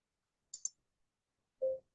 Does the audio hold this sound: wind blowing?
no